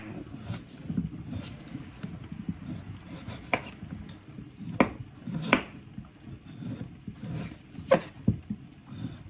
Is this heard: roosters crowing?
no